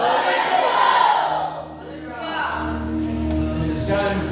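A church congregation shouts praise and cheers together in Spanish, a loud, swelling roar of many voices that fades briefly before rising again.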